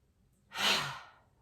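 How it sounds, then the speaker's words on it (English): One slow, clearly audible breath is drawn in during a shoulder-shrug stretching exercise, rising and fading over about half a second, close and alone. "Breathing in."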